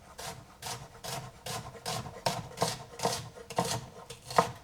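A knife finely chops red onion on a board in a steady rhythm of about two strokes per second. Each stroke gives a crisp, rasping cut, close and moderately loud, with no talking.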